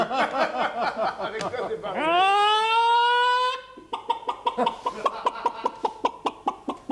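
On a 1987 French TV show, a man imitates a hen with rhythmic, loud clucks, breaks into a long drawn-out squawk, then resumes steady clucking, close and clear.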